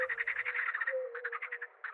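Toad croaking in The Cursed Forest horror game, a near, clear run of rapid pulsing croaks in two bursts over a steady low tone, with no talk.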